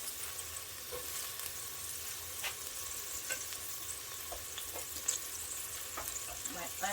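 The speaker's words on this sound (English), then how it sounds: "I'm gonna start adding my onions" Onions sizzling in a pot after sazon is added for shrimp asopao, a faint steady frying hiss with a few soft clicks and stirring taps, quiet and close.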